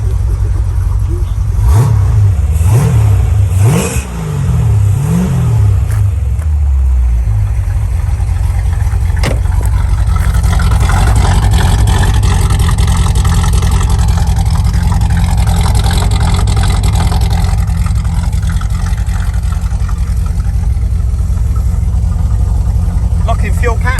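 A 1976 Corvette C3 with a 383 stroker V8 idles with a deep exhaust rumble, then blips the throttle in several sharp revs and settles back into a loud, steady burbling idle close by.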